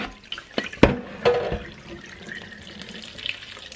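Tap water runs faintly into a sink while raw pumpkin seeds are rinsed, with a few clattering knocks and splashes early on, then a soft, steady trickle.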